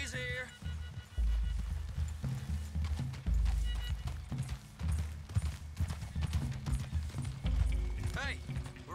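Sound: horses galloping in Red Dead Redemption 2 video game

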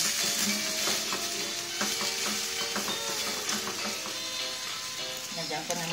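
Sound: string beans added to pan, stirring and frying

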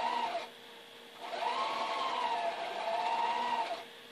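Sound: sewing machine stitching quilt block

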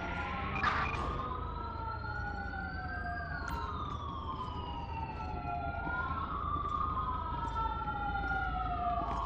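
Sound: ambulance siren in the video game LSPDFR

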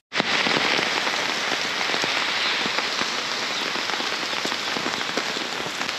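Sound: rain

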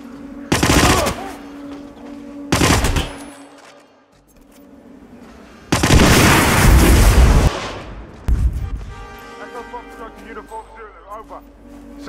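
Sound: explosions and gunfire in video game

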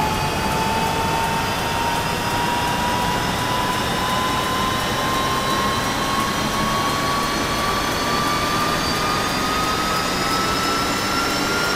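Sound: UH-1H helicopter turbine engine starting up in DCS video game

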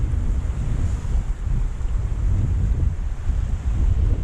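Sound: stormy sea waves and wind on shore

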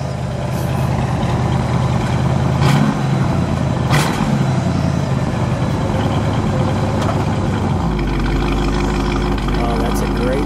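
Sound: 1960 Pontiac Bonneville Convertible engine exhaust revving

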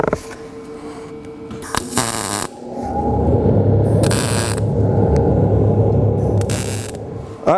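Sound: tack welding a metal end table

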